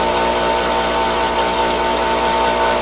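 A bench grinder works a lathe tool bit, giving a steady, loud, dense whirring hiss with a constant hum underneath, unbroken and close, with no voices.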